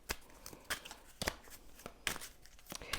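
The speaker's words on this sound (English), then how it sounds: "I'm going to shuffle and see what the cards have to say." A deck of tarot cards is shuffled by hand, heard as quiet, sharp riffling bursts at irregular intervals against a soft background.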